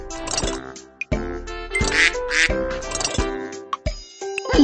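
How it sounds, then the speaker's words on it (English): Cartoon duck quacking in a Mickey Mouse Clubhouse computer game, several loud bright quacks in uneven bursts with short gaps, alone and close. "A duck sounds like this."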